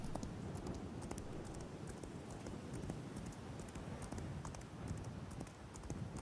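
Horse hooves clip-clop steadily at a walk in the Daggerfall Unity game, a faint, continuous patter under soft ambient hiss with no talk.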